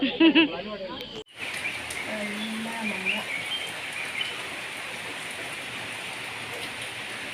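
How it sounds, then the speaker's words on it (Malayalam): Soft, continuous patter of rain fills the background after a brief voice at the start, with a faint bird call heard once through the downpour. "ഇപ്പോൾ പിന്നെ വീണ്ടും ഇതാ മഴ പെയ്തുകൊണ്ടിരിക്കുകയാണ്"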